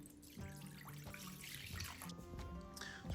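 Liquid pouring into a container used to soak and whiten red drum fish bones, a steady close splashing trickle with small bubbling and drips throughout, fairly quiet.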